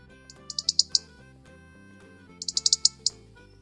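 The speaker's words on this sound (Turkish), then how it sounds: "Kızıl Gerdan" A played recording of European robin song: two short bursts of rapid, high, sweet chirping notes, each rising in strength, over soft sustained background music.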